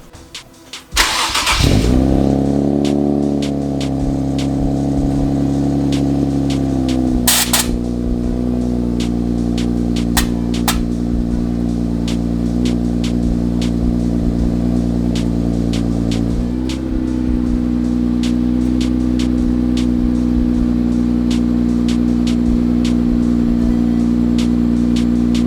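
An Infiniti Q50 car fires up from cold with a short starter crank and a loud catch, then idles in a high, steady drone that drops slightly in pitch partway through. It runs close and continuous, with small clicks and no talking.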